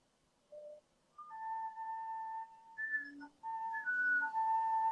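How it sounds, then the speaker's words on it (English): Thin, pure whistle tones from a flute, a series of sustained high notes shifting in pitch with brief gaps between them, quiet and close. "But then we get the whistle tones."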